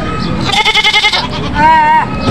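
Goats bleat loudly and close by at a livestock auction market, one giving a long quavering, stuttering cry followed by another drawn-out wavering bleat.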